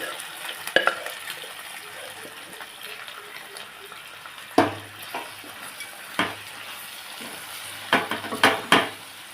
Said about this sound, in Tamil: இப்போ வேக வச்சுருக்க இந்த பருப்பு இது கூட சேர்த்து கிளறிக்கலாம்.